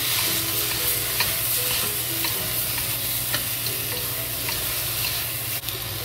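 Tomatoes and cabbage frying in a pan for country-style fried cabbage, producing a constant dense sizzle with faint stirring ticks and a low steady hum beneath, even and close.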